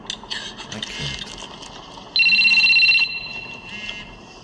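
Telephone ringing in a film scene from The Batman, a bright electronic ring sounding out clearly for about a second after a stretch of busy background sound, then fading into low ambience.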